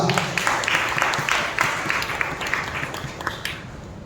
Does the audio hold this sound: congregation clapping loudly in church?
yes